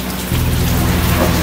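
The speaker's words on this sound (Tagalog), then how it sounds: "Walang tigil po ang pagbuhos sa malakas na ulan." Heavy rain pours without pause, a dense steady roar of water on surfaces, close and loud, with no voices over it.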